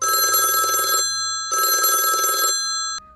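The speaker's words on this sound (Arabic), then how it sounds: "وفي كل مرة المتصل كان بيرن" An old-style telephone rings loudly and close in two long electric bell bursts separated by a short pause, then cuts off abruptly.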